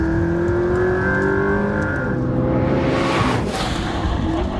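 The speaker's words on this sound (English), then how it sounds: "The weirdest thing is that it just does not stop accelerating." A McLaren P1 accelerating hard, its engine a loud, continuous roar that climbs steadily in pitch and stays close and dominant throughout.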